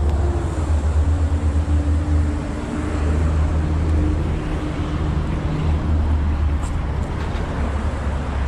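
An Audi TTS sports car driving, with a steady low engine drone and road rumble throughout, some wind noise over the cabin, no talking.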